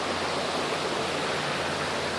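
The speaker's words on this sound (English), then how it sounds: "It's one of those waterfalls," Rushing water from a stream or small waterfall, a dense, even roar of broadband noise that stays steady and close throughout with no voices.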